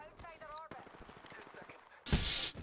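A charge rifle fires once in Apex Legends, a loud, bright energy blast near the end, following a stretch of voices talking over game sounds.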